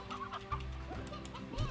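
Chickens cluck in short bursts in Slime Rancher over a steady, synthetic-sounding background, with a low thump partway through; no one speaks.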